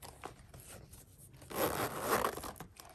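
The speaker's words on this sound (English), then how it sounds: "So you'll see it has a very nice sturdy zipper." A sturdy zipper on a TSL Superior Labor leather utility pencil case, giving short scraping, tearing rasps that swell louder in the middle of the three seconds, close up with no talk.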